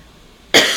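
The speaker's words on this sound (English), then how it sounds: "That was actually just a cough." A single sharp human cough bursts out after half a second of near silence, close and fairly loud.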